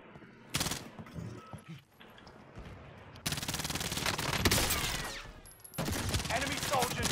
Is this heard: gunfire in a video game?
yes